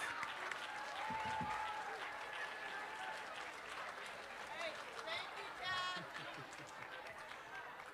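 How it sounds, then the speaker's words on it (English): Audience applause for parents at a state civics and debate championship held at New College of Florida, a broad, steady wash of crowd clapping lasting throughout with scattered voices and cheers mixed in. "Let's give our parents a big round of applause"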